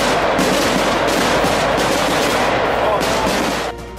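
Dense rapid crackling bursts of fireworks at the Vazhalikkavu Vela temple festival in Paingulam, Kerala, loud and continuous like rolling gunfire, easing off slightly near the end.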